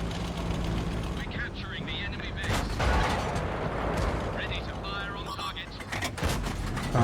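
Tank cannon fire in World of Tanks, a loud game shot booming amid a continuous roar of battle noise and mechanical clatter, with repeated sharp blasts across the stretch.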